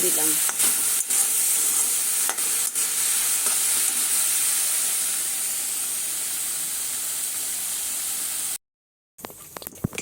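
Red amaranth greens cook with asafoetida in a pan, giving a continuous close sizzle and hiss with occasional stirring scrapes. The sizzle cuts out briefly near the end and then resumes with a few clatters.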